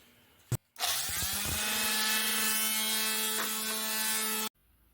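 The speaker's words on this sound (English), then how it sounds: "we're going to take that off now with some 220 grit sandpaper and an orbital sander" An orbital sander fitted with 220 grit sandpaper works a wooden cutting board. Its whine rises as it spins up, holds a steady high buzz close by for about four seconds, then cuts off abruptly.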